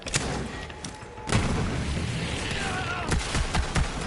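Rapid gunfire from a weapon in Borderlands 3 bursts in dense, loud volleys, with sharp repeated shots clustering near the start and again toward the end.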